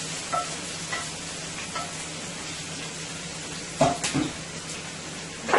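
Garlic, scallion, onion, celery and basil sauté in a pot for a Guyanese beef and squash stew, giving a steady low sizzle broken by a few soft stirring scrapes and clinks of a spoon.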